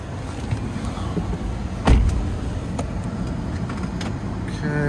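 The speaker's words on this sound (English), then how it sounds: "I'm gonna take this one for a quick drive." The cabin of a 2020 Toyota Highlander Platinum Hybrid AWD on the move carries a steady low road rumble with a few faint clicks and one soft thump, and nobody speaks.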